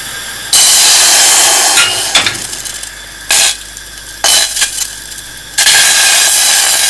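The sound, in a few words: water poured into a hot empty pan, hissing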